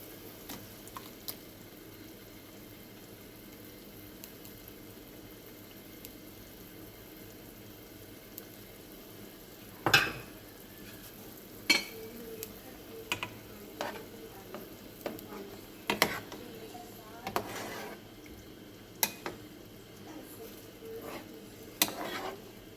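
Tinned mackerel cooks in a pan for a Jamaican rundown, giving a soft, steady sizzle while a utensil stirs and scrapes, with about a dozen sharper clinks and knocks scattered through the second half.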